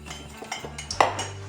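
Light clinks and scrapes of a utensil against a bowl while mixing flour with salt, pepper and garlic powder, a few soft taps and one sharper clink, close by.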